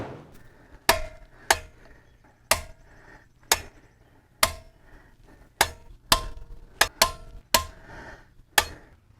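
A torque wrench tightening lug nuts on a Ford Bronco wheel to about 100 pound-feet, giving sharp, distinct clicks one after another at an uneven pace, close by, with faint ratcheting between them.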